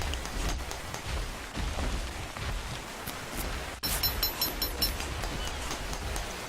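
Steady in-game rain in Ark: Survival Evolved, a faint, even hiss of falling drops with a few sharper patters and clicks. It plays alone, without talk.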